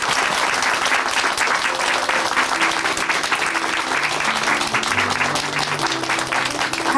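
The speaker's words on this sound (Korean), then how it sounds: "우리 형제님께도 박수 보내드리겠습니다." A congregation in a Korean church testimony broadcast claps for a young man who gave his testimony, a long, steady round of applause, close and full, with a soft musical accompaniment or hum of tones underneath.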